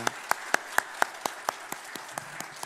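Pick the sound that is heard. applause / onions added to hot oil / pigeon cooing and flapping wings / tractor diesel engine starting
applause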